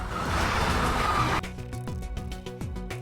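Cars in a movie chase through a village and into a factory, a loud roar and tire noise cutting abruptly into a series of choppy, rhythmic engine and skid bursts as they stop.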